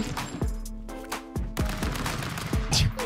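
Gunshots in the video game Stick Fight, several sharp booming shots spaced irregularly with short echoing tails and cartoonish effects, loud and close, with no talking.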